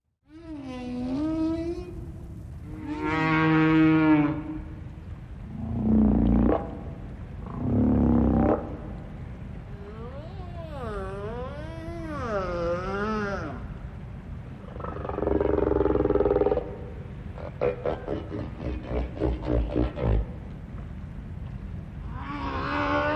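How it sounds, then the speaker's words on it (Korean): Recorded gray whale calls from a whale museum exhibit in Jangsaengpo, a series of separate moaning, rising and falling tonal cries with some rough, roaring bursts, then a rapid pulsed sequence, alone and fairly loud. "이곳에서는 실제 귀신고래의 울음소리를 들을 수 있습니다."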